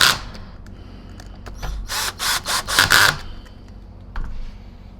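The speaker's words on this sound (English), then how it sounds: "that was the right setting on the drill" A power drill drives screws into a Zero G F3D Edgelift vacuum power nozzle under repair, whirring loudly and close in a quick series of short bursts, then a lighter whir after a pause.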